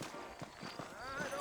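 Saddled horses' hooves clip-clop in the Western video game Red Dead Redemption, a quick run of evenly spaced hoof knocks close by, with a faint voice-like tone drifting over the later part.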